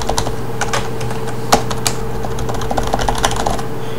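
Close-up typing on an Element Hanzo KB 1000G gaming keyboard, pressed hard on purpose: quick irregular clicks and muted clacks, one sharper strike near the middle, no voices.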